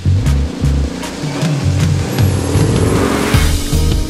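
A race car engine drones loud and close on a track lap, its pitch stepping up and down in steady pulses as the driver works through the gears and corners.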